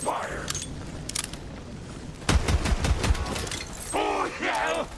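Video game gunfire crackles in sharp rapid bursts, dense volleys loud and close, with a spoken voice over parts of it.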